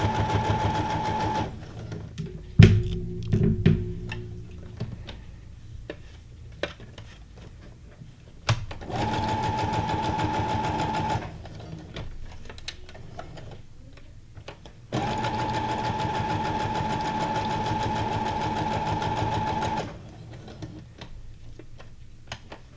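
Sewing machine stitching paper ephemera for a junk journal, with steady whirring runs that start and stop several times, broken by quiet pauses and a few clicks and handling sounds in between.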